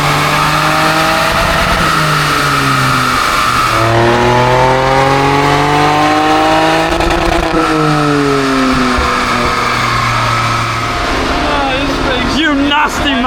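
Turbocharged three-cylinder engine of a Ford Fiesta ST with a stage 1 tune revs hard on a dyno, loud and close, climbing through several gear-like sweeps with a rasp at the top, while people talk over it.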